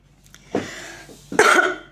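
Two short, raspy coughs, the second louder and harsher, close up in a quiet room.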